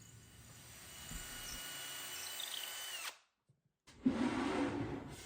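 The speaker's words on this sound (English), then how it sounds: "I'm drilling the holes for the drawer knobs" A power drill bores holes for drawer knobs in walnut, whining close and steady for about three seconds, cutting off into near silence, then spinning up again for another burst.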